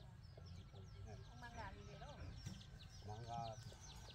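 Farmyard hen with a brood of about ten chicks, soft clucks and thin chirps scattered across the scene beneath people talking nearby outdoors.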